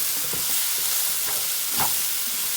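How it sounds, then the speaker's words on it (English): Chopped onion frying for a homemade pasta sauce, a steady broadband sizzle with soft stirring scrapes and a couple of brief clatters, close and continuous, no talking. "you get your onion and start cooking that baby up"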